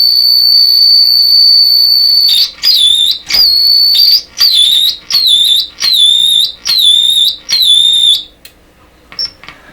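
A loud, piercing electronic whistle from an oscillating circuit in a DeForest 10DA517 AM radio holds a steady tone, then breaks into a rapid series of warbling chirps before cutting out to faint clicks.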